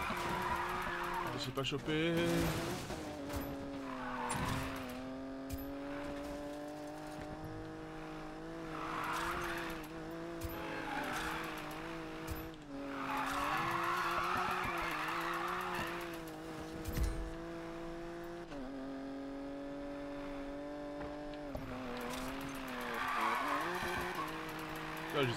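In the racing game Need for Speed Payback, a car engine drones steadily while tires squeal through a long drift, with the revs rising and falling and a player talking over it throughout.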